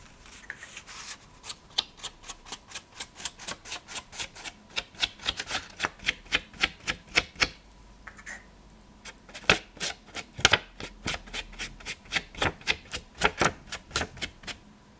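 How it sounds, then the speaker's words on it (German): Paper edges are dabbed against a black ink stamp pad for a handmade mini album, giving a long run of quick, sharp tapping pats in an uneven rhythm, close and fairly crisp, with no talking. "werde ich jetzt erst nochmal die Ränder der Papiere einfärben. Und zwar mache ich das mit dem schwarzen Stempelkissen."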